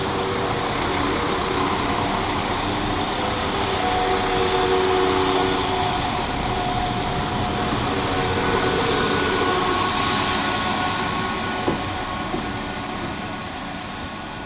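A pair of coupled West Midlands Railway Class 172 diesel units idle and rumble at Worcester Foregate Street station, a loud continuous engine drone with a steady hum that swells gently midway and then eases off.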